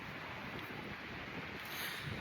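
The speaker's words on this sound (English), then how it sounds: "It's very, very windy today." Strong wind roars steadily across the microphone outdoors, with a dense, loud rush and no voices.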